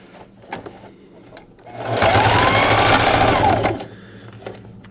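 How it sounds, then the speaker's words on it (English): A sewing machine stitches around a fabric quilt ruler holder in one loud, steady run of about two seconds, rising from and falling back to a quiet room. "I'm just going to sew all the way around"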